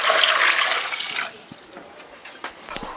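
New potatoes sloshed and rubbed in a pot of water, a rushing, splashy wash loud at first, then fading into scattered drips and small knocks.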